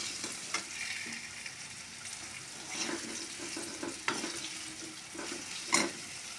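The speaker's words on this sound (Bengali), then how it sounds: "একটু ভাজা ভাজা করে নেব আদা দিয়ে" Ginger fries gently in a pan, giving a quiet hissing sizzle broken by scattered scraping and clinking of a stirring utensil, with no one speaking.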